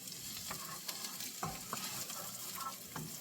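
Chopped yellow onion and green onion sautéing in butter in a pan, a steady close sizzle broken by a few soft scrapes and taps of a utensil being stirred through.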